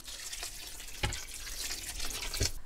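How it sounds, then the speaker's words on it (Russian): A litre of water poured into a pot of pickle soup, a steady splashing pour with a couple of heavier sloshes, close and continuous throughout. "Так, теперь добавляем литр воды."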